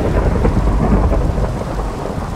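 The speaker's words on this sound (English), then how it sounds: "A lightning bolt just struck there. In front of my face." A lightning bolt strikes in Minecraft, followed by a loud, close rumble of thunder with a rain-like hiss that fills the whole moment, with no talk heard.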